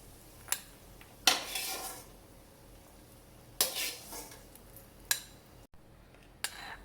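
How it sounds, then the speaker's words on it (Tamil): Roasted cashews being scooped out of a pan, with several sharp metal scrapes and clanks of a spoon against cookware, separated by quiet gaps, close and without talk. "முந்திரி பருப்பு நல்லா வருந்து வந்துட்டு இதை எடுத்துக்குவோம்"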